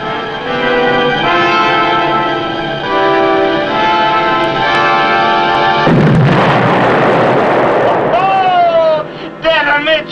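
A torpedo strikes a ship amidships: after sustained tonal horn-like drones with voices, a sudden loud broadband blast erupts and rumbles on, followed by falling whistling tones.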